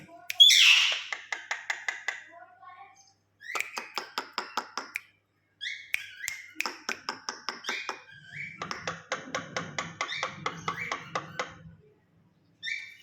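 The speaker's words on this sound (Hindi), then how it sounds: "देखा दोस्तों हमारी मैना।" A pet myna bird gives loud, close calls: a sharp squawk, then repeated bursts of rapid clicking, tapping chatter separated by short pauses.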